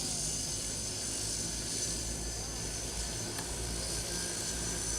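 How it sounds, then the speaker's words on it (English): The Ryse Recon, an electric ultralight vertical-takeoff-and-landing aircraft, flies with a steady, loud broadband whir of rotors and motors that holds constant throughout. "what basically it is an ultralight vertical takeoff and landing electric vehicle"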